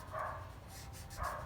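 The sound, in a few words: neighbours' dogs barking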